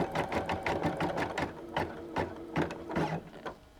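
An embroidery machine stitches a decorative crazy-quilt design, a steady run of rapid needle clatter with rhythmic mechanical pulses, close and clear with no talk.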